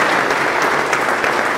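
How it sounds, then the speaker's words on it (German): Brief burst of steady audience clapping at a Lexus roadshow event in Cologne, dense and even throughout. "das ist ein Applaus wert"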